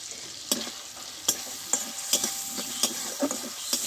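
Tomato cooking down in a hot pan for a Bengali-style flat bean dish, a steady soft sizzle broken by about eight sharp scraping strokes of a spatula, close and alone with no voices.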